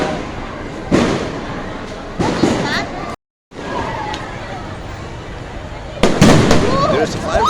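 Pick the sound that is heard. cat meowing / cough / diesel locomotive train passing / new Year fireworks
new Year fireworks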